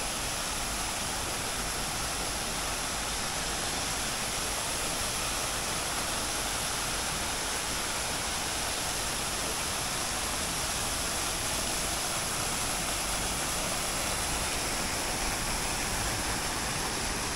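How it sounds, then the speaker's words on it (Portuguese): Water flowing at the Palácio da Justiça in Brasília: a loud, unbroken rushing wash of falling water that holds steady throughout, with nothing else standing out. "Olha o som da água."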